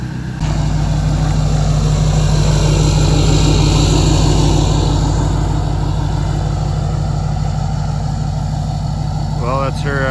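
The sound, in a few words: 2nd gen Dodge truck engine idling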